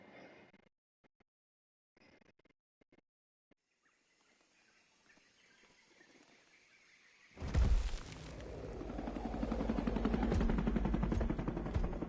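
A helicopter flies low overhead in Predator: Hunting Grounds. After a long, near-silent stretch broken by a few faint ticks, a loud, throbbing rotor roar bursts in and holds strong to the end.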